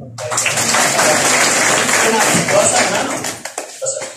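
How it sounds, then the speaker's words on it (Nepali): Students in a secondary school classroom break into loud, sustained applause, dense clapping filling about three seconds before tapering into a few scattered claps, with voices mixed in. "जोरदार ताली"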